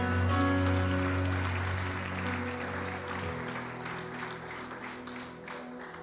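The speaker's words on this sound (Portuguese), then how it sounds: "aplauda ao Senhor" Church congregation at a Sunday service clapping in praise, a steady wash of applause beneath sustained organ or keyboard tones and humming chords, fading slightly toward the end.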